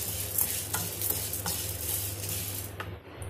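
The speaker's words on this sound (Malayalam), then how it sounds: "കടലപ്പരിപ്പും ഉഴുന്നും കൂടെ ഇട്ട് ഫ്രൈ ആക്കുക." Chana dal and urad dal fry in a pan with a steady sizzle and repeated stirring scrapes, close and continuous, with no voices.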